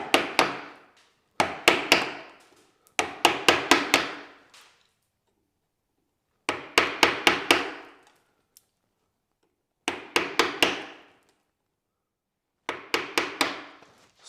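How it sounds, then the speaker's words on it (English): A mallet drives a chisel, bevel down, into a wooden chair joint, giving groups of sharp, close knocks in quick runs of three to six, separated by short silences. "So using the chisel with the bevel down first, we're going to come in onto this joint and remove the bulk of the material."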